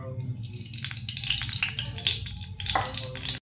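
Oil tempering in a hot kadhai for Mutton Sukha, with crackling, sizzling spatters and metal stirring clatter running steadily throughout, close and moderately loud, with a sharper burst near the end.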